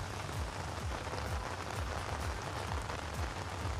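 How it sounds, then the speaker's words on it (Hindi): Steady rain falls in Uttarakhand, a soft, even wash of patter with faint low drips, heard alone and at a distance. "जिस तरह से लगातार उत्तराखंड में बारिश का सिलसिला बना हुआ है"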